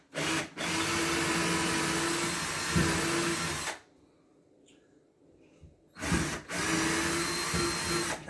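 A power drill drives a screw into a wall stud while a TV wall mount is installed, with two long, loud whirring runs separated by a quiet pause and a short burst at the end.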